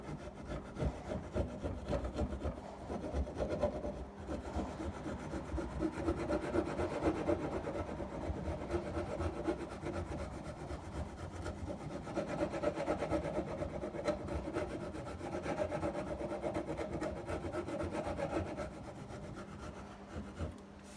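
A hand file and rasp scrape steadily across the wooden body of a Telecaster guitar, shaping a belly cut with continuous rough strokes up close, with a heater humming faintly behind.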